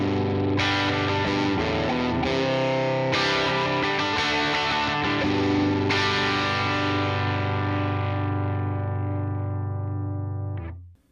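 Fender Tone Master Pro running only the UK30 amp model with the British model off, carrying loud distorted electric guitar chords and held notes with a chorused sheen, steady and unaccompanied, stopping abruptly near the end.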